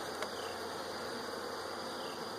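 Honey bees buzz steadily around the frames of a five-frame nuc hive, a dense continuous hum that holds close and even throughout, with no voices over it.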